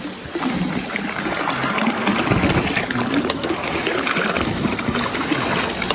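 Water pours and trickles steadily at close range, a continuous splashing wash, with a voice faintly in the background.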